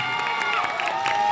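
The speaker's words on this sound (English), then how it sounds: "Can we have a big round of applause for all these 14 stunning women here tonight?" An audience cheers and applauds at a Mrs Arunachal beauty pageant, a dense continuous wash of clapping and shouting voices at close range, filling the whole moment.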